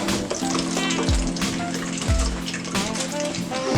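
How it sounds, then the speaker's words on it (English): Food sizzles and crackles steadily in hot oil, loud and close. A couple of splashy drops land partway through as pieces go into the pan, and a voice speaks briefly over the frying. "And the second one, and you're just gonna let them fry for a minute."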